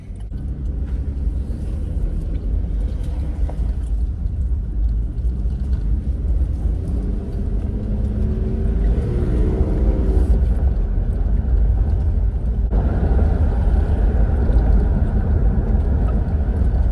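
A 1999 Infiniti QX4 on a test drive after front lower control arm replacement, heard from inside as a steady low engine and road rumble with a brief shift in pitch midway, continuous and fairly loud.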